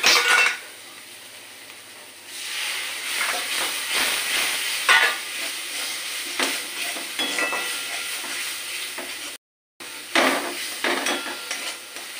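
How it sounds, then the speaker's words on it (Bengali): Hot water poured into a pan of frying potol for doi potol, setting off a loud hiss and steamy sizzle with stirring scrapes that settle and then flare again after a brief gap. "একটু গরম জল অ্যাড করি।"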